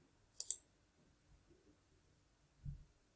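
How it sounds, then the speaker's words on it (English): A crisp double mouse click on a Continue button sounds close and quiet, then faint soft knocks follow in near silence. "I'm going to click Continue"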